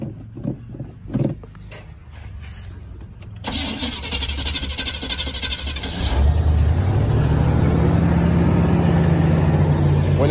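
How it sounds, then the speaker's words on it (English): A car that needs its throttle cable looked at, cranked up and left to idle: quieter engine noise at first, then a steady, loud, rumbling idle that holds on to the end. "When I crank this one up, of course, I gotta wait till she idle up."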